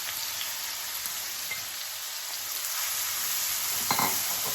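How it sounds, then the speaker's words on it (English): Chopped onions fry in a pan with a steady, dense sizzle and crackle close by, continuous throughout with a few faint stirring clicks near the end. "I'm going to fry these onions till they are light golden brown."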